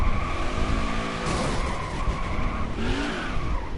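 Race car tires squealing and skidding in a racing video game, drawn-out screeches that rise and bend over a steady engine roar, with a second squeal near the end.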